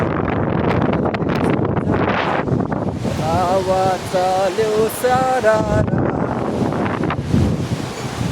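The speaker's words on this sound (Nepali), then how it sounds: "एकदमै ठुलो हावा आइरहेको छ।" Strong wind buffets the microphone in a steady roar, with people talking and singing over it throughout.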